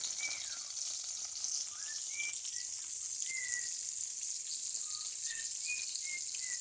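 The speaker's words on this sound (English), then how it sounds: "put it in a hot pan of lard" A hamburger patty, dipped in egg and flour, fries in a hot pan of lard with a steady, close hiss and crackle, while a bird chirps in short phrases in the background.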